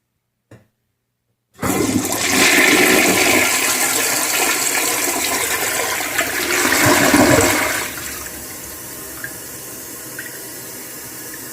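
An early 1960s American Standard front trap toilet gives a short, loud rushing flush that swirls for about six seconds and then drops away to quiet refilling trickles, with no one speaking.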